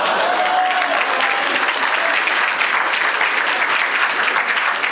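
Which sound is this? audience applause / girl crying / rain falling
audience applause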